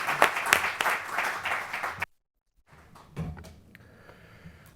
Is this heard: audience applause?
yes